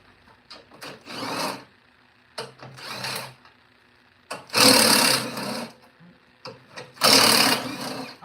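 A 10mm socket on a ratchet zips bolts on an Elite Cub Cadet 24-inch snow blower, giving four bursts of rapid clicking, two quieter then two louder and closer, with short pauses between.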